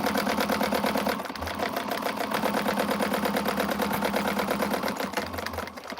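A sewing machine runs steadily through a double stitch on a quilted project, a fast even clatter that carries on for the full stretch with only slight dips in pace.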